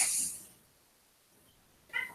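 A young kitten meows twice indoors, a fairly loud cry at the start and a shorter, higher call near the end, with quiet between them.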